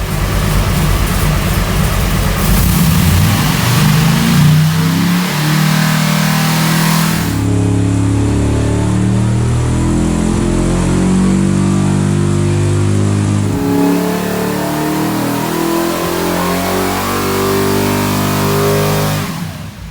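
A Mopar V8 with a Revator ignition box roars through a dyno pull. The revs climb steadily into a sustained, very loud high-rpm wail, then the engine drops back, all close-up with no voices.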